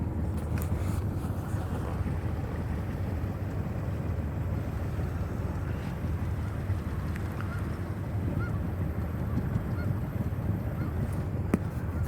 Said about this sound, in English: Notice there that they also incorporate geese.